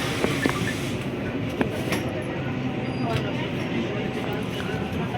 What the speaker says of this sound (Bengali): এই টাইমে আস্তে আস্তে আমাদের টয় ট্রেনটা ছাড়ে